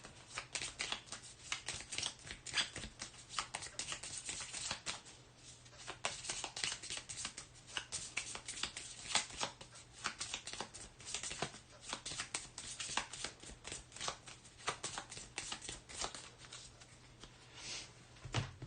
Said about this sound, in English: So we shuffle those up.